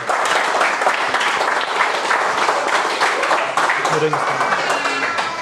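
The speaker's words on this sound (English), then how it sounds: "let's give them another round of applause" An audience at a cricket club's senior teams' presentation gives a sustained round of applause, dense steady clapping throughout with a few voices mixed in.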